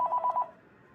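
A telephone on a call blocker test line rings once briefly, a short faint electronic trill that cuts off quickly into quiet line hiss.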